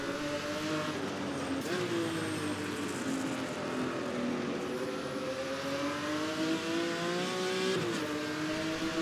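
Race car engines roar on a track, a steady harmonic drone with pitch rising and falling as cars accelerate and pass, continuous and moderately distant throughout.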